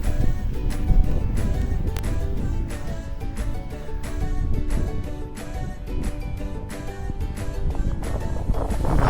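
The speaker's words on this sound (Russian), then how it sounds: "Хороший ветер сегодня, качественный." Strong wind during a snowstorm on a ski trail in Omsk, roaring and buffeting the microphone with continuous loud rumble and repeated gusty thumps, close and unbroken throughout.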